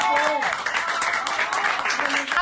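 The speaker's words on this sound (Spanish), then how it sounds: "Aplausos" Applause as a departing mayor leaves the town hall, a crowd clapping steadily while voices carry over the top.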